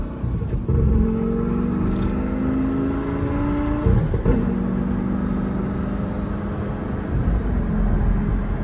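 A Lamborghini Gallardo sports car engine revs and pulls away, its rising roar steady and loud at close range.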